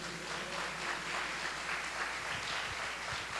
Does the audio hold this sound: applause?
yes